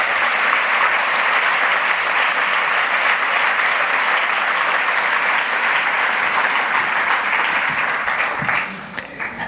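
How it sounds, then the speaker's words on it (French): Loud, dense applause from an evening audience in a hall at a network launch event, continuous and steady throughout before tapering off in the last second. "On peut applaudir Geneviève Morand qui est là ce soir dans la salle."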